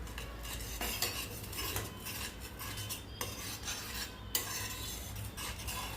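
A spoon stirs and scrapes red chili powder and garam masala around a pan for dahi fried okra, giving soft, repeated scraping and clinking strokes with light sizzling underneath, close but fairly quiet and with no talk.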